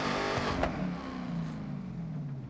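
A car engine in the video game Forza Horizon 6 revs and accelerates steadily with a rising whine, loud and close, continuous throughout with no talking.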